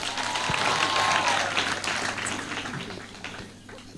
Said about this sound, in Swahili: Mpigeni makofi tafadhali